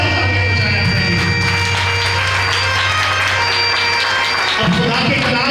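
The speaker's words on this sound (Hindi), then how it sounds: "जोरदार तालियां बजाएं अपने लिए।" A church congregation at a midnight Resurrection service claps continuously, the applause layered under a steady musical drone and sustained tones, with voices mixed into the loud, full sound.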